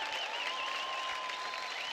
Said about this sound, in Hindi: जोरदार तालियां शक्ति के लिए